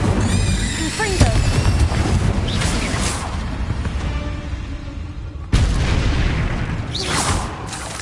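Blasting-spell explosions from Hogwarts Legacy on PS4 boom out in heavy, loud bursts, one near the start and another sharp blast around the middle, over a dense rumbling battle din.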